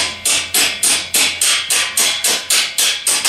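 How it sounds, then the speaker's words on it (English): A hammer taps out the front axle of a TaoTao CY50T3 scooter in a steady series of about eleven sharp, evenly spaced metallic blows, close and loud with no talk. "Then what you want to do is just tap out this"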